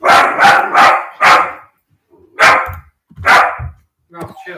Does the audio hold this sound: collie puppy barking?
yes